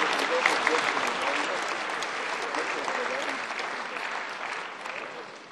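An audience at a travel and exploration awards event gives steady, full applause, a dense wash of clapping that holds strong and tapers slightly toward the end.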